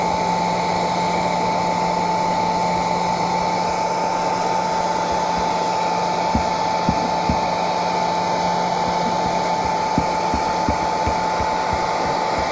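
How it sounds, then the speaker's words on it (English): Heat gun blowing steadily up close while waxing canvas saddle bags, a continuous loud whirring hiss with a fixed whine, interrupted by a few faint knocks and taps. "This heat gun's hot."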